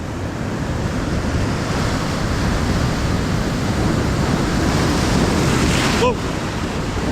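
Big ocean swell surges and crashes over coastal rocks in a loud, continuous wash of surf, with a sharper splash near the end; wind buffets the microphone throughout.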